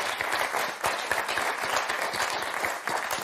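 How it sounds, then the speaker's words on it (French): Studio audience applause on the Motus game show for contestants Marie and Jessie, dense continuous clapping at steady loudness throughout. "Et bravo à Marie et à Jessie qu'on applaudit très fort."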